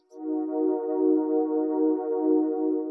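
Sustained UAD Polymax synth preset with filter and chorus effects, a steady harmonic-rich tone holding for about three seconds with gentle swelling movement, played alone without talk.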